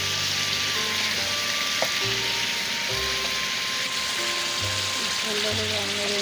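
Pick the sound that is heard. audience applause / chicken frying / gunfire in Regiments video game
chicken frying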